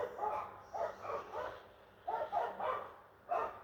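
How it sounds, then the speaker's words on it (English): Dogs bark downstairs in a home, coming through as muffled, moderately distant bursts of repeated barks in two or three clusters, with no talk over them. "Dogs are barking when I'm speaking."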